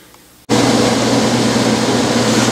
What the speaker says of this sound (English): I got the furnace running here,